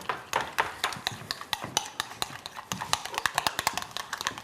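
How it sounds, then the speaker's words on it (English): Homemade tartar sauce stirred with a utensil in a bowl, a steady run of quick clicking taps against the bowl's side, close and fairly soft, alone. "simple little stir. And you have your own tartar sauce."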